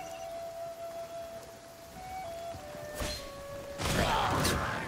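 Video game rain downpour: a steady hiss of falling rain, faint and continuous, swelling briefly with a louder splashy burst near the end; no talking.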